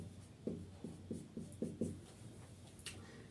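Chalk or marker writes a chemical formula on a classroom board, a series of short scratchy strokes and taps in an uneven rhythm, faint and close with no talk.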